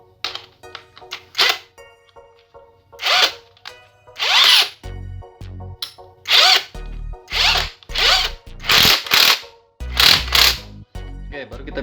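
A J.LD 48V cordless impact drill fitted with a drill bit whirs in repeated short bursts, each lasting about a second and separated by pauses and handling clatter.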